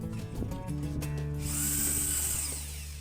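An electric drill whirs up and bites through a pair of 9mm plywood baseboard frames for a model railway, the motor winding from a low tone into a loud, high-pitched spin before easing off.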